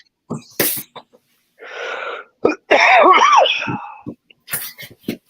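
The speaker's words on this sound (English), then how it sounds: "Get that cough under control, bro" A few sharp, explosive coughs or sneezes up close, with bursts of breathy rasping and a wavering vocal sound in between.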